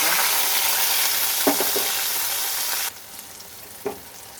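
Loud steady sizzle of chilies with water added to fenugreek frying in a pan, with a couple of brief stirring clatters, then a sudden drop to a quieter, softer hiss for the last stretch.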